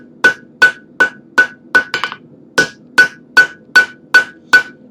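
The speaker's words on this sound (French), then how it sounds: "je martèle en partant du centre et après je viens tourner autour" Hammer blows on a forge-welded sandwich Damascus steel billet, about a dozen loud, ringing strikes at a steady, even pace, with a quick flurry of lighter taps near the middle and no talking.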